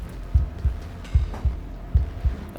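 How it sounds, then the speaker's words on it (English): A loud heartbeat thumps in the Slay the Princess video game, three evenly spaced lub-dub double beats, deep and close, with no talk. "heartbeat is quite loud."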